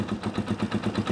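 A small motorcycle engine idles while warming up, giving a fast, even, near putter of regular pulses with no voices.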